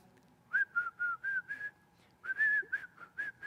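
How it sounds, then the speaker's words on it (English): A person whistles a bright tune in two phrases of short, clear notes, close and alone with a brief pause between phrases. "some people like to whistle while they work"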